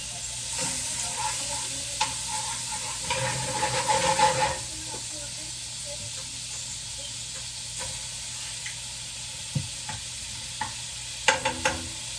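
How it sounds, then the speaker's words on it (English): Butter melts and sizzles in a frying pan on the stove, a steady close hiss with a few stirring scrapes and clinks, while a person talks briefly over it. "So, now after you add your butter into your pan"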